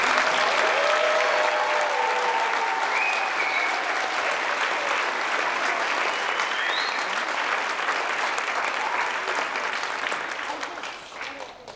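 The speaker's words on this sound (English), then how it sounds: "How about another big round of applause for our students?" A large graduation audience gives students a sustained round of applause, dense steady clapping filling the hall and tapering off near the end, with faint voices in the crowd.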